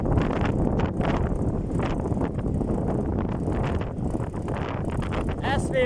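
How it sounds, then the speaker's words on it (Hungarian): Strong, gusty wind during a windstorm in Pápa, Hungary, roaring steadily and loudly close to the microphone for the whole stretch, with excited voices calling out over it. "a szél..."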